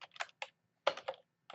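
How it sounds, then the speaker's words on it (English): Keystrokes on a computer keyboard as a site search is typed, coming in quick clustered bursts with short pauses between them, close and fairly quiet with no talking. "So I'm going to type in here, site Artisans of"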